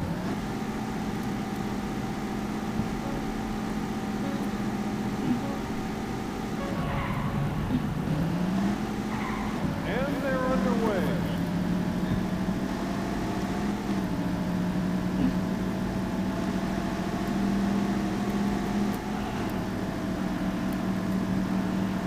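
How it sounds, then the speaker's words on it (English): Race car engines in the arcade racing game Daytona USA Deluxe drone steadily and continuously, with the pitch rising and sweeping as the cars rev up and pull away partway through, alone without talk. "Gentlemen, start your engine."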